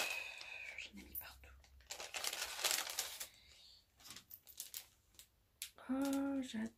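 A gift pouch crinkles and rustles in bursts as someone struggles to open it, with close, soft plastic-like crackling under a woman's speech.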